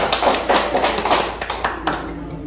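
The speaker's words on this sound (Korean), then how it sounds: "박수 한번 주시고요." An audience at a gallery exhibition opening claps briefly, with a short burst of hand claps at close range that fades quickly.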